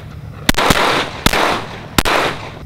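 Three loud, close rifle shots at a shooting range from a rifle fitted with a Radian Ramjet and Afterburner, spaced under a second apart, each with a sharp crack and a lingering ringing decay.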